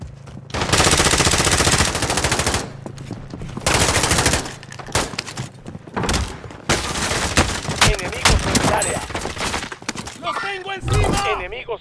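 Dense automatic gunfire in Call of Duty: Modern Warfare, with long rattling bursts and scattered single shots in a close-quarters fight, loud and continuous, while voices call out between volleys.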